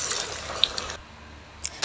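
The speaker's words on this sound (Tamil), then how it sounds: "இப்போ வந்து ஒன்றா போட்டு நாங்கள் வந்து பொரிச்சு எடுத்துக்கலாம்." Banana fritters frying in a pan of hot oil give off a steady close hiss and sizzle, with a few small pops and crackles, no talking.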